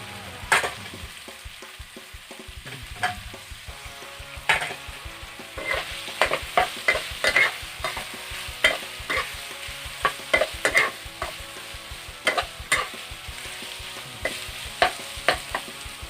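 Pork liver stir-frying with garlic in a hot pan, a steady close sizzle broken by frequent scraping and clinking stirring strokes, with no talking.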